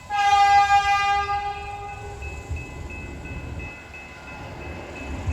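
A passenger train's horn blares a sustained chord that fades as the train rumbles past, wheels rolling on in a steady, lower clatter.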